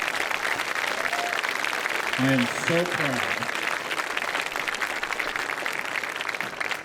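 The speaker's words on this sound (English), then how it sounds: "These guys on the field deserve a tremendous amount of applause" Audience applause for a high school marching band in a stadium during a band camp preview, steady broadband clapping throughout with a voice speaking over it briefly.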